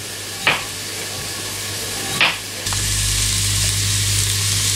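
Carrots and onions sauté in an Instant Pot during vegetable soup preparation, giving a steady hiss with two brief stirring scrapes, then the sizzle grows louder and fuller as more food goes into the pot.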